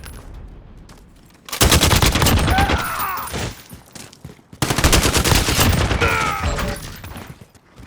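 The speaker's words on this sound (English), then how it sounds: "Sniper LMG that shoots really fast compared to other guns" RAAL MG sniper LMG in Call of Duty Modern Warfare fired in two long, rapid, loud bursts of heavy gunfire separated by a short pause, with faint spent-casing clinks ringing through.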